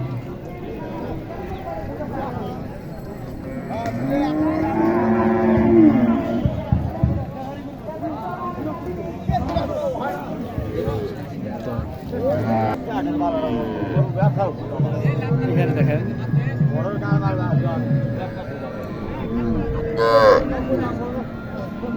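Cows and calves moo repeatedly at a busy rural cattle market in Naogaon, Bangladesh, the lowing calls rising over constant crowd chatter and nearby voices haggling.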